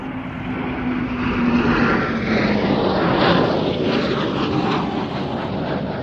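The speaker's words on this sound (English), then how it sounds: "it's two typhoons doing the missing man." Two Eurofighter Typhoon jets make a missing-man flypast at an air festival, a loud, close, sustained engine roar that swells and shifts as they pass, heard alone.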